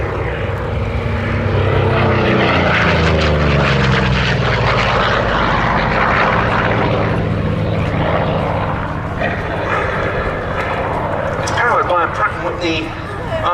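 A Grumman Bearcat fighter with a 2,000-horsepower R2800 Double Wasp engine roars loudly at an air show, its propeller drone rising and shifting in pitch throughout while a commentator talks over it.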